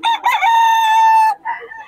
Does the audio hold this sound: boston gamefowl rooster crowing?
yes